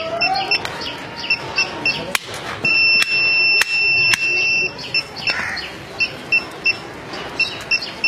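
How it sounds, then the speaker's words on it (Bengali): A motorbike security system's remote alarm sounds in loud, sharp electronic beeps and chirps, with a sustained two-tone stretch in the middle and short repeated pulses after it, close by. "আমাদের রিমোটের মধ্যে অ্যালার্ম আসতে থাকবে"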